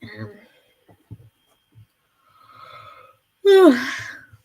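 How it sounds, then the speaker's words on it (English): A single person's yawn, rising into a drawn-out, falling vocal sigh near the end, preceded by faint breaths and quiet sounds. "oh sorry, a little yawn there."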